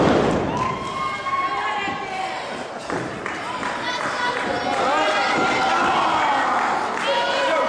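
Chops and forearm strikes land with sharp thuds in a wrestling ring at a live independent show, over a steady crowd murmur and occasional cheers while commentators talk throughout.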